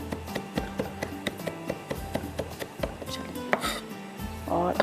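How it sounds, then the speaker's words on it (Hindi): Knife chopping garlic finely on a board in a kitchen, a rapid run of sharp close taps with uneven rhythm and a brief scrape near the end, no talking. "थोड़ा सा और बारीक चॉप कर लेती हूँ"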